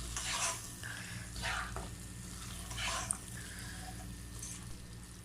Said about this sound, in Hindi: इसे थोड़ा सा बस इसमें फ्राई करूंगी।